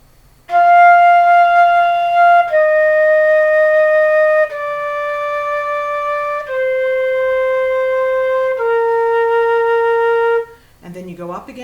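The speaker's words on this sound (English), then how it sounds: "This is called a scale when you go up and down by steps." A flute plays a five-note scale in a beginner lesson, with clear sustained tones of about two seconds each stepping downward one after another, close and steady, ending with a brief different note.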